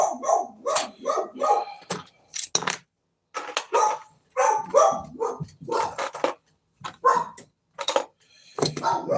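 A dog barks excitedly in repeated bursts close by, yipping and barking in uneven clusters with short pauses, likely near someone working on a vehicle body.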